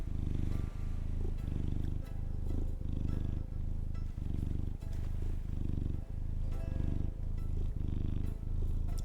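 A cat purrs right next to the microphone, a deep rhythmic rumble pulsing with each breath in and out, steady and loud throughout.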